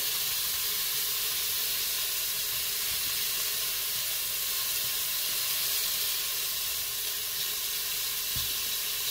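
Onions sizzling in a Cookeo pot, a loud continuous bright hiss of frying with a faint brief stir or clatter near the end, no talking.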